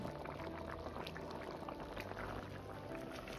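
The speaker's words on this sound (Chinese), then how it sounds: "感觉颜色偏浅的可以放入少许的老抽，这样做出来颜色黄亮" Dark soy sauce goes into a pot of simmering dumpling-style soup, a quiet trickle over the soft, steady bubbling of the broth.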